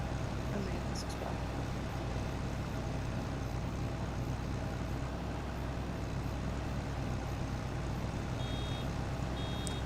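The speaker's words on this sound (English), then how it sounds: "you'll hear beeping when you get close to" High electronic reversing beeps from a vehicle in Farming Simulator 25 come through faintly and briefly, mostly buried under a loud, constant rumble of engine and road noise.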